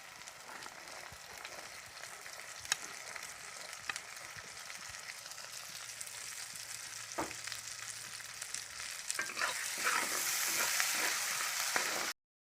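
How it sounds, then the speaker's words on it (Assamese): Green peas fry in oil with masala for matar paneer, a soft sizzle with light stirring clicks that swells louder and busier toward the end, then cuts off abruptly. "ইয়াৰ পৰা এতিয়া তেলটো ওলাবলৈ আৰম্ভ কৰিছে মই ইয়াতে এতিয়া মটৰটো দি দিম"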